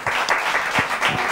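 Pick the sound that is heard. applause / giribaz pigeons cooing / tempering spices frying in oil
applause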